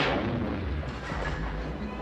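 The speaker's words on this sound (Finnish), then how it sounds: "Tykit karjuivat koneiden lähestyessä tukikohtaa" Cannons roar as armoured machines close on a snowy rebel base in a Star Wars battle, a dense, continuous rumble of heavy booming fire filling the scene, with no clear gaps between blasts.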